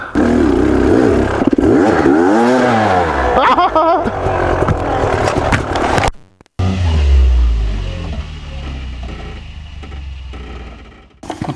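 A Beta Xtrainer dirt bike engine runs and revs at Hell's Gate in Moab, its droning pitch rising and falling; the sound cuts out briefly and then returns as a rough, lower idle.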